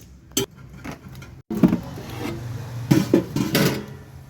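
A ladle clatters and scrapes against a metal pot while black chickpeas for sundal are stirred, giving a few sharp knocks followed by a run of close, uneven rattling taps.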